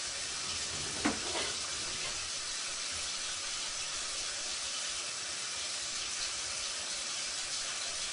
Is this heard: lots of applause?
no